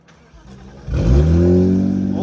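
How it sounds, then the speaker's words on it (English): A Lexus IS200 drift car cranks briefly and fires up, its engine catching with a loud close roar and settling into a rumbling, revving idle through the exhaust. "The time has come to start this car up."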